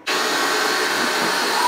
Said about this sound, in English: Lindy vacuuming screws up